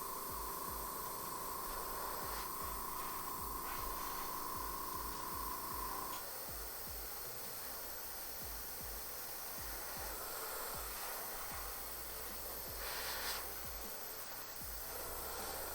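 An airbrush held on the trigger sprays only air over a freshly painted miniature to dry it, giving a continuous soft, close hiss that runs unbroken throughout.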